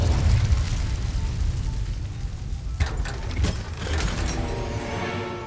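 Incendio fire spell cast in the Hogwarts Legacy video game, heard as a continuous roaring, crackling burst with several sharp pops and flares, loud and close, with no talking over it.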